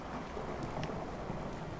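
Night thunderstorm in the game Fallout 4: dense, steady rain hisses continuously over a low rumble of distant thunder, with no voices.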